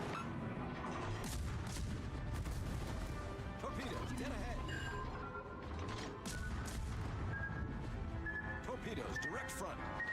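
Ship guns firing at a submarine in a naval video game, a dense, continuous barrage of booms and crashes running the whole stretch under steady talk.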